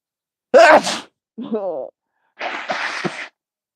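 A single loud sneeze bursts out, followed by a short breathy vocal sound and then some brief mumbling.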